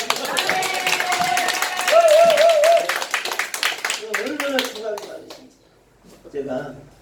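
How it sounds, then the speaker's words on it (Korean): A church congregation applauds, brisk crowd clapping that builds for a few seconds and then fades out, followed by someone speaking over the tail. "다시 한번 박수 한번"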